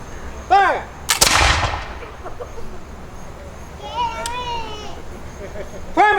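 A smoothbore flintlock musket fired by a militia reenactor at a Revolutionary-era demonstration, one sharp loud blast with a trailing rumble, surrounded by children's voices and chatter from the crowd.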